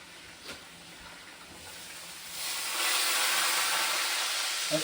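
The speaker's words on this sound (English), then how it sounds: "That skillet's good and hot on that pork chop" A pork chop sizzling in a hot skillet during a homestead dinner, a steady hiss that swells louder partway through, heard close with no talking.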